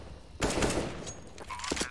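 Quick gunfire from Counter-Strike: Global Offensive, a short burst of fairly faint shots with a sharp onset and a few trailing cracks.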